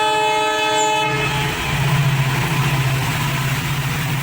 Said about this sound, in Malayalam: അതാ ഒരു ട്രെയിൻ വരുന്നുണ്ട് അല്ലേ.